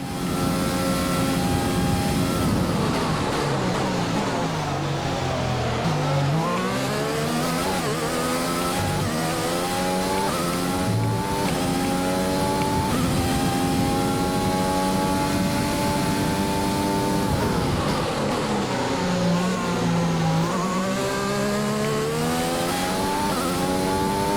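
Racing car engine on the straights at the Bahrain Grand Prix in a racing video game, running rich mix: a loud, continuous high whine that climbs and drops with gear changes, passing other engine notes, alone with no talk.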